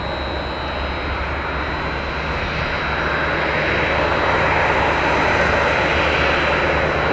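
A United airliner accelerating down runway 1 right at Tampa airport for takeoff, heard up close as a loud, steady jet engine roar that builds slowly and fills the whole clip, with no talking.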